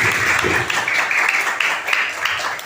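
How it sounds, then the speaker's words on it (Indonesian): A group of children claps together in a class on the life of the Prophet Muhammad, with loud, close, continuous clapping that has a faintly rhythmic pulse. "Tepuk tangan semuanya"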